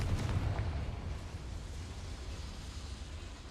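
A deep rumbling blast from the Confringo spell in the game Hogwarts Legacy, a loud boom at the start that fades into a long low rolling roar.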